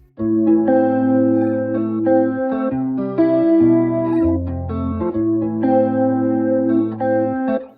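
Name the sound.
electric guitar with flanger and EQ effects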